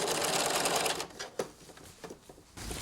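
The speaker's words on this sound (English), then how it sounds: "we're going to sew close to the edge" A sewing machine runs a seam close to the edge through a garment's lining, a fast close whir for about a second, then a few short stop-start bursts and brief pauses.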